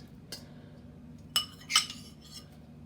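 Utensils clink and tap against a dish while honey walnut prawns are tossed in sauce. A few sharp, bright metallic clinks are spaced apart over a quiet background.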